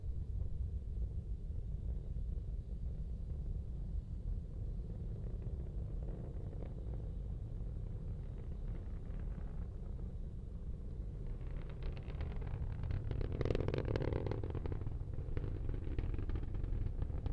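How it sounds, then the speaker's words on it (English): A low, steady rumble of Falcon 9 rocket engines at launch rolls on, faint and distant, swelling slightly toward the end. "Let's listen to the Merlin engines as they do Stage their work"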